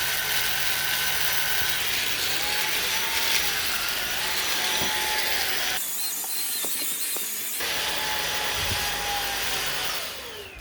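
MOOSOO K24 cordless stick vacuum cleaner running on carpet, a loud steady high-pitched motor whine with shifting pitch as it moves, briefly cutting out and starting again before winding down.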